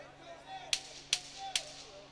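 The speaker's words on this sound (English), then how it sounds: "when he hears the 10-second clapper" A ten-second clapper at a combat fight event: three sharp wooden claps in a steady rhythm, loud and close, standing out over a low arena hum.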